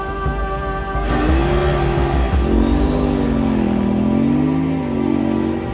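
KTM-style 800X Rally adventure motorcycle ridden hard across soft desert dunes: a loud, continuous engine drone with rising and falling pitch as the rider works the throttle, heard close up.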